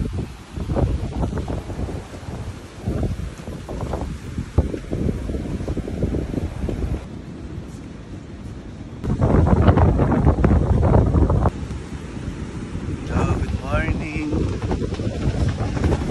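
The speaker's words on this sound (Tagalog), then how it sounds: "Grabe, kalakas na hangin." Strong gusting wind by a rough sea buffets the microphone in a loud, continuous roar, surging louder in the middle, with rushing outdoor noise throughout.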